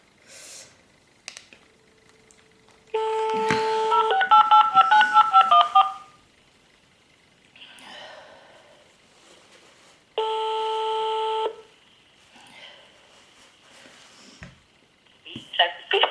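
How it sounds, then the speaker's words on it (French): A telephone gives two bursts of electronic beeping tones, one a few seconds long and a shorter one later, as the call cuts out. Quiet speech and small noises fill the gaps between them. "c'est mon téléphone qui coupe"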